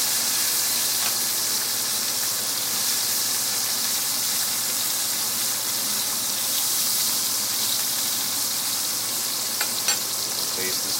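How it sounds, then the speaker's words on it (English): Butter sizzles steadily in a hot pan while a sous vide baseball steak is basted, a continuous bright frying hiss with faint crackles and no talking. "Drop a little butter in for basting"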